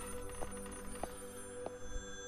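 An old telephone rings in the horror game Maid of Sker. There are three short, evenly spaced bell trills over a steady hum of background ambience, and no one talks.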